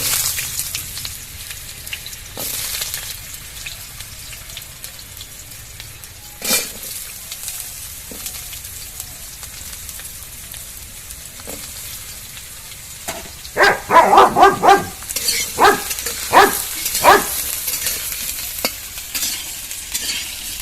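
Long-cut potato pieces go into hot oil for a Bengali ridge gourd dish, giving a steady low sizzle with scattered scrapes and clatters of a spatula growing busier partway through, close and without speech.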